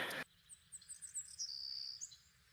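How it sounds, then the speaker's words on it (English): Small birds chirp and trill in a forest setting, faint and somewhat distant, a quick string of high notes after a short noisy burst at the start. "I love the sound of birds."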